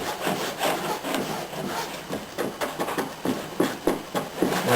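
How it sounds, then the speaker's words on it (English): Epoxy is pressed and worked by hand into fiberglass cloth along the seams of a boat hull, giving a steady run of scraping, rubbing strokes, close and fairly loud, with no talk. "Press the epoxy into it."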